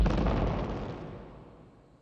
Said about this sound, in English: the telltale sound of AK-47 fire, hundreds of invisible troops opening up, all at once, probing for weak points in the perimeter